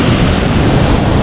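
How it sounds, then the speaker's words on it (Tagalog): Large ocean surf rolling in continuously, a loud, dense roar of breaking waves mixed with wind buffeting the microphone, with no speech over it. "Malaki pa kasi ng alon."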